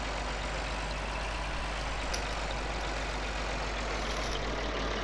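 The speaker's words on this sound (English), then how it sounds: "Old tractors just sound amazing." An old modded tractor with top exhaust pipes driving around a farmyard in Farming Simulator 19, its engine giving a steady, dense, loud rumble that holds constant throughout with no speech.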